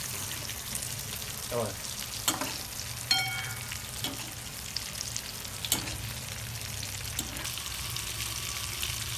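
Stuffed brinjals frying in a pan give a steady close sizzle throughout, broken by several sharp clinks and scrapes of a utensil against the pan.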